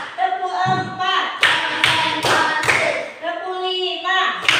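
A class plays a clapping game, with children and a teacher chanting counts between short bursts of sharp hand claps that land in a quick, regular rhythm.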